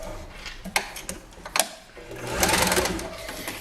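Sewing machine stitching a folded bias binding edge on a homemade makeup pouch: brief motor bursts, then a longer steady run of rapid needle clatter, close and fairly quiet.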